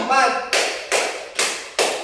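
Four sharp, evenly spaced claps ring out in a classroom clapping pattern at an elementary school, following a brief voice at the start.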